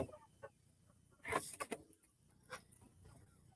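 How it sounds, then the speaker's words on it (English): Meat chickens on a farm during morning chores give a few short clucks and squawks, loudest in a brief burst near the middle, over faint background rumble. "Wait till you see these fucking meat birds."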